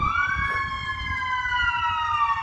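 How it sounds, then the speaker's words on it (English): Ambulance siren passing through a city street, a loud wailing tone sweeping slowly up and down with harmonics, steady and fairly close over background traffic rumble. "Ambulance action."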